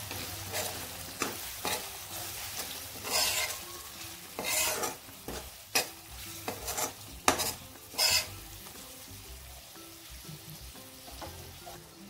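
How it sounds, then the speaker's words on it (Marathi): Chilli powder and goda masala sautéing in a pan, with a spoon scraping and stirring in bursts over a soft sizzle, close and fairly quiet with short clanks of utensil on the pan. "1 चमचा गोडा मसाला, हे सगळं घालून आपण परतून घेणार आहोत"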